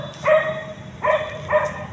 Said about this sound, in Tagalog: Ayun, madaming aso.